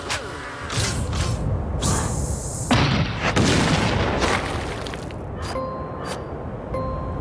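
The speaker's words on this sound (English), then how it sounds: "It's just like it's a cannon explosion." Booming cannon-like explosion effects with bursts, debris and clattering rumbles, followed by ringing metallic tones, all loud and close with no talking.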